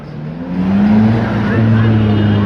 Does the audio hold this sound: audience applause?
no